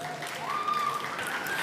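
Audience applause at a schools' Black History elocution contest: a steady, dense wash of clapping that holds at an even level for the whole stretch, with no pause or fade.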